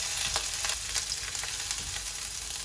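Chopped ginger and green chillies sautéing in oil on a low flame, a steady soft sizzle with small crackles and pops scattered through, close and even, without any talk.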